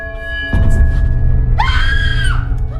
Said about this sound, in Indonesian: Ia pun menjerit ketakutan